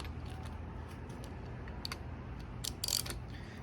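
Ratchet cranking the engine of a 302 Mustang GT45 turbo swap by hand to check firing order, a few faint clicks under steady background noise, with a brief louder burst near the end.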